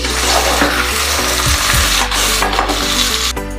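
Onion and green chili frying in hot oil for a village-style paya curry: a loud, dense sizzle with scraping stirs and a few knocks. A low, steady hum runs underneath.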